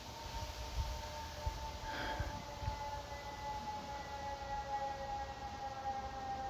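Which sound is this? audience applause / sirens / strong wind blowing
sirens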